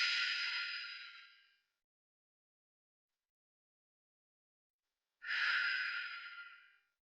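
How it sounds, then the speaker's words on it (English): Two slow, deep breaths are taken during a stretching routine in a quiet room, each a soft, airy exhale lasting over a second, separated by about four seconds of silence. "Take some deep breaths here."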